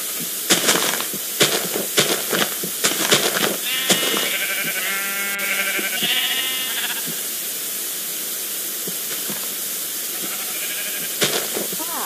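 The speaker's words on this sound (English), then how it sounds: "Hello, sheep." Minecraft sheep bleat in several wavering calls through the middle, with scattered sharp clicks and taps before and a steady background hiss throughout.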